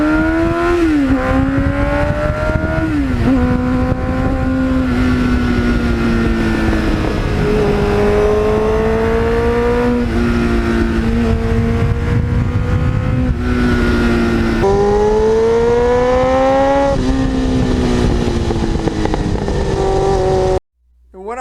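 A retired 1989 Kawasaki GPX750R track bike is ridden, its engine loud and close throughout, rising and falling through repeated gear changes and revs before cutting off abruptly at the end.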